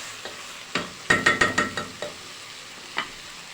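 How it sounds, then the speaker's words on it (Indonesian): Beef and onions stir-fried in a hot pan for beef rendang, giving a cluster of quick scraping, clattering stirs with light sizzle, then one more stir after a pause, fairly close. "Dagingnya dioseng dulu sebentar sama bawangnya ya."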